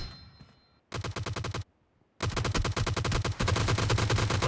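Rapid automatic gunfire from the PUBG Mobile Arena map Gun Game, with a short burst followed by a longer, denser volley of loud shots, close and unaccompanied by talk.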